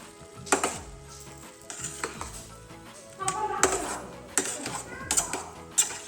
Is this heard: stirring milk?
yes